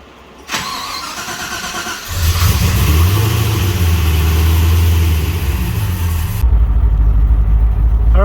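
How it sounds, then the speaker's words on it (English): LS-swapped Nissan 240SX with a T56 gearbox, a click then the starter cranking briefly before the V8 catches with a loud bark, revs up and settles into a deep, steady, slightly lumpy idle. "the car fired up super good"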